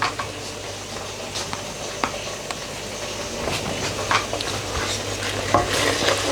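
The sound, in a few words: stirring pakora kadhi in a pot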